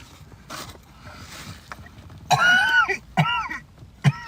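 A person coughs a few short, sharp times after eating, close to the microphone, following a quieter stretch of soft background noise.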